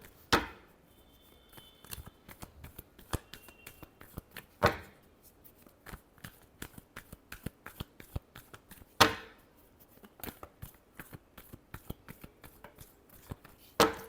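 Tarot cards being shuffled by hand at close range, with repeated quick riffling flutters and soft taps, several louder slaps as the deck is squared, in an irregular rhythm.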